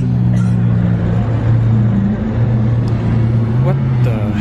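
A Lamborghini Aventador engine revs loudly on a Monaco street, a low droning rumble with rising pitch swells, while people talk over it.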